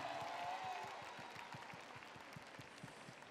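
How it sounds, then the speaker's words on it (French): Steady crowd applause at a live Miss Alsace 2022 pageant, moderately loud and continuous, with dense clapping throughout and no voices standing out. "Applaudissements pour elle, s'il vous plaît."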